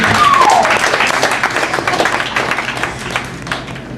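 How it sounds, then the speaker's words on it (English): A standup comedy crowd applauds for a performer named Ryan, loud, dense clapping with a brief cheer at the start that gradually thins and softens toward the end. "How about another round of applause for Ryan?"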